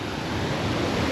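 A waterfall reached by motorbike roars as a dense, steady rush of white noise, loud and constant throughout the short clip, with no voices.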